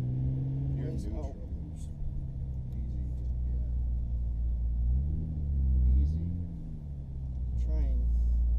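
A classic MK2 Toyota Supra rumbles at low revs as it eases away, its engine note rising gently partway through while voices talk over it close by.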